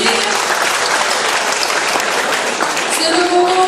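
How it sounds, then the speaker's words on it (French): An audience applauds the candidates at the final of a knowledge quiz contest, a loud, dense, continuous burst of clapping that holds steady from start to end, with faint voices beneath. "On les applaudit"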